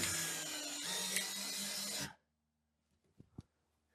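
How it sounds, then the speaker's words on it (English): A power drill drives screws into a wall for hanging a mirror, a continuous whirring buzz for about two seconds that stops abruptly, followed by a couple of faint knocks. "I'm going to screw these in till they're 1/4 inch sticking out."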